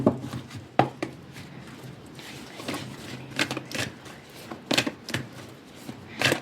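Tarot cards are shuffled by hand in irregular bursts of riffling and sharp taps, close and fairly quiet, with short pauses between the flurries.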